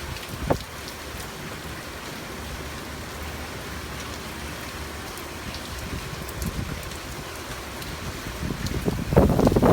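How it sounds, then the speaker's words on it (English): Heavy rain lashing down during Hurricane Irma near the ocean: a dense, continuous hiss mixed with wind buffeting the microphone, swelling into a louder gust at the very end. "now you can't even see the ocean because it's raining so hard"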